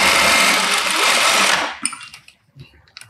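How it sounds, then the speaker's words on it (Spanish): A sewing machine stitches a seam on a trouser pocket, running as a loud, close, steady whir for about a second and a half, then stopping, followed by a few faint clicks and fabric handling. "paso una costura aquí también"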